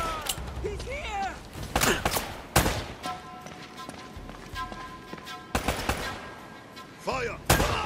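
Gunfire in the video game Uncharted: Drake's Fortune, several loud sharp shots and short bursts spaced across the stretch, with game voices and clanking mechanical noises in between.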